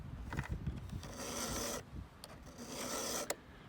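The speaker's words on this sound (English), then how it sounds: "I'm filing back this surface, and I'm filing this leading surface of that C shape." Steel file rasping across the C-shaped cutter of a chainsaw chain, sharpening the leading edge at a slight upward angle, in long repeated strokes that rasp close up and steady with brief pauses between them.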